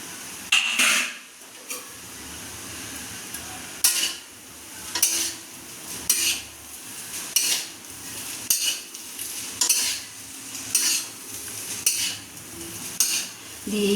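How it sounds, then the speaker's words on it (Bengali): A spoon stirs fried chicken in a pan for Kolkata-style chicken chowmein, giving regular scraping strokes about once a second with a soft sizzle underneath, close-up and with no talking. "এইভাবে আবার 2 মিনিট নেড়ে নিতে হবে, সুন্দর করে নেড়ে নিতে হবে।"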